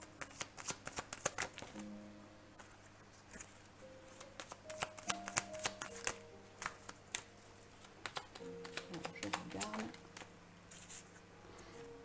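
Tarot cards are shuffled and drawn in quick, papery riffles and soft slaps, close and fairly quiet, over a low sustained musical tone with a faint voice in the background.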